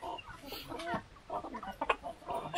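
Young laying hens in a backyard flock cluck and murmur in a busy, irregular stream of short calls, close by with faint rustling, and no talk over them.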